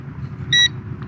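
An Eachine EX5 drone, a Mavic Mini clone, gives a single short, bright electronic beep during compass calibration, clear above a low background rumble.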